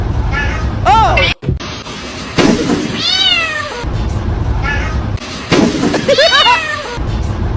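A stranded cat meows loudly several times in rising and falling cries, close to the microphone, against background noise. Voices are also present.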